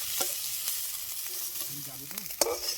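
Soft, steady sizzling of freshwater pond snails frying in a pan, with a few light scrapes and clinks of a utensil stirring.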